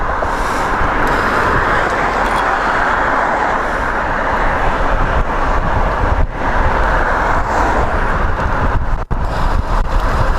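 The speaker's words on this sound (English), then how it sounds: "It's a little bit of a crosswind." A strong crosswind roars against a vehicle driving on icy roads on studded tires, as a loud, steady rush of wind and road noise buffets the microphone throughout.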